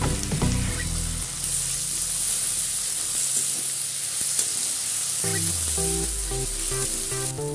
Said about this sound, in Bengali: এগুলি একটু ভেজে নিয়ে একটা টমেটো কুচি দিয়ে দিলাম।